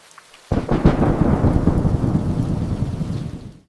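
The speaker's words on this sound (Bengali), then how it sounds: "আজ বাইরে খুব বৃষ্টি হচ্ছে।" Heavy rain pouring outside with rumbling thunder, starting abruptly and holding a loud, steady roar with deep low rumbles throughout, no voices.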